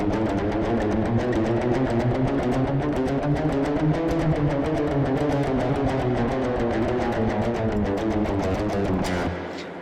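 Fast alternate-picked notes on a guitar in a quick, even stream of dense plucks running continuously, close and clear with no voices, ending abruptly near the end.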